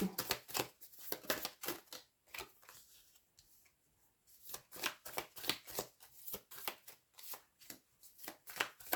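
Tarot cards shuffled by hand during a reading: rapid riffling bursts and flicks near the mic, a brief quiet gap, then more rhythmic shuffling strokes.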